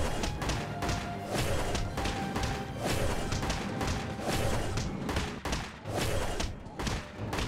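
Guns fire without letup at an enemy in the video game RWBY Grimm Eclipse, with dense, loud thuds, crashes and rapid shots piling up into a continuous barrage.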